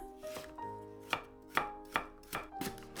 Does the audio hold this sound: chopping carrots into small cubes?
yes